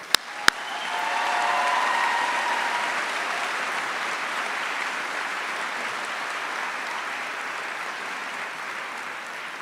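A graduation ceremony audience breaks into applause after two sharp clicks, the clapping swelling quickly to a broad, steady wash and then easing slightly while continuing to the end.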